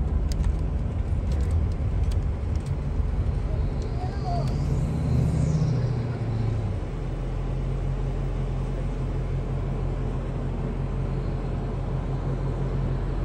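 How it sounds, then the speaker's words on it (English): A passing truck's engine rumble rises and fades behind the steady drone of a tour bus interior in an Amish village, loudest around the middle before settling back to constant road noise. "I'm going to let this truck go"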